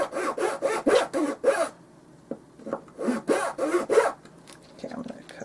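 Small wood pieces for a miniature dollhouse refrigerator being hand-sawn, with bursts of rapid back-and-forth rasping strokes, a short pause, then another run of quick close strokes.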